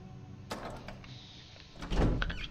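A door is unlocked and opened in the Resident Evil game, a metallic click followed by a heavier thunk and creaking swing near the end, fairly quiet and close.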